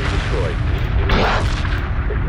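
Heavy weapons fire from space combat ships in Homeworld 2 Remastered rattles in a dense, steady barrage of booming shots and crackling blasts, loud and continuous, with a brighter burst partway through.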